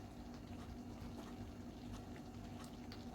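Pav bhaji simmering in a pan after masala is added, a low, steady bubbling and burbling close up and faint, continuing evenly throughout without talk.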